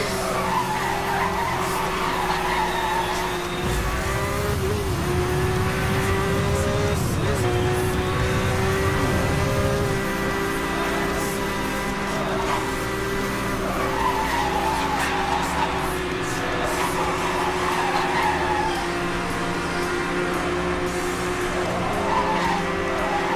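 A Porsche drifts in Need for Speed, engine droning steadily with sustained tire squeal and skidding, loud and continuous throughout.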